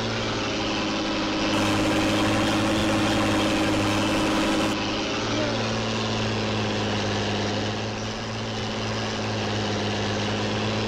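A big tractor in Farming Simulator 19 idles with a steady, droning diesel hum that holds constant throughout, loud and close with no other sounds.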